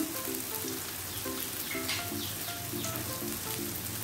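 Shrimp-paste sambal sizzles in hot oil in a pan, a dense, steady crackling fry close up, with a few faint ticks of seasoning being added and no voices.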